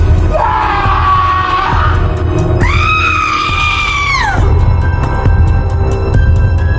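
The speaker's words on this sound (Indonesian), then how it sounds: "kini terdengar suara teriakan yang sangat kencang dari segala penjuru arah" Loud, overlapping screams and yells come from several voices at once, swelling into long wailing cries over a constant rumbling background, eerie and chaotic as if from all around.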